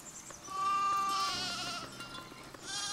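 Sheep bleating in the Foundation video game, a drawn-out nasal bleat rising over steady game ambience, followed by further overlapping bleats from the flock, fairly loud and close with no talk.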